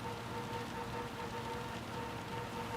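Steady rain falling during a wet race in the Gran Turismo 7 racing game, a constant even hiss that holds at one level throughout, with no voices.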